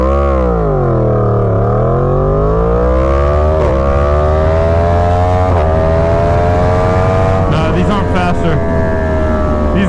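Yamaha FZ10/MT10 motorcycle launching from a standstill toward 100 mph, its engine loud and close, revs climbing sharply through several gear changes with brief dips between each pull.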